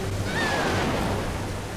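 Rushing river rapids in The Walking Dead video game, a steady, loud wash of turbulent water with wind-like noise throughout, no voices over it.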